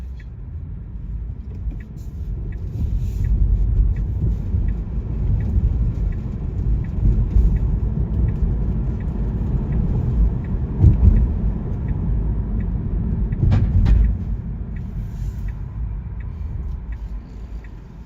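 Manhattan street traffic in New York City, a steady low rumble of passing cars and buses with occasional louder swells of engines nearby, running continuously without talk.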